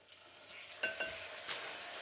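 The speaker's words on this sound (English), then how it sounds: "That sizzles right up." Butter melting with a splash of liquid vanilla in a hot pan while making holiday treats, giving a steady close frying hiss with two sharp crackling pops near the middle and another burst later.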